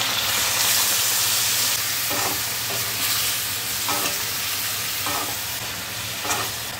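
Ginger paste, chili paste and turmeric stirred and frying in a pan, a steady loud sizzle with a few scraping strokes of the spoon running through it, no voices.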